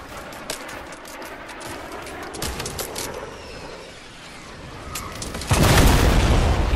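Gunfire and explosions in a video game, with scattered sharp shots through a noisy battle backdrop and a loud, sustained roaring blast building near the end.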